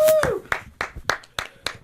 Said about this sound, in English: the one person clapping